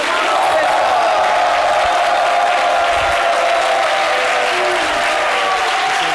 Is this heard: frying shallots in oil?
no